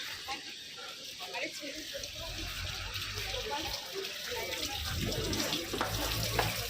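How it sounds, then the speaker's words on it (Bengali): Taps run continuously at a large hand-washing area at Belur Math, a steady splashing stream of water with people talking nearby throughout. "এখানে যেতে হবে হাত ধুতে বাপরে কত বড় এরিয়া হাত ধোয়ার জায়গা"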